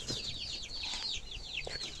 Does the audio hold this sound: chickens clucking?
yes